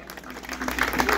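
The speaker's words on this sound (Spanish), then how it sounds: "Fuerte aplauso, por favor." A crowd at a neighborhood patron-saint festival queen coronation breaks into applause that builds louder over about a second, clapping mixed with crowd noise and voices.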